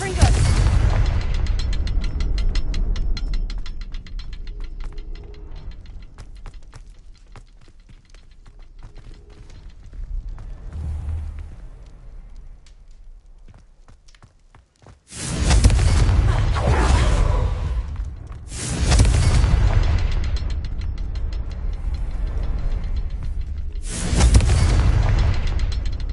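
In Hogwarts Legacy the Confringo spell explodes with a heavy roaring blast, then a mechanical, ratcheting rumble, then a second loud burst, and the rumbling boom carries on through the rest.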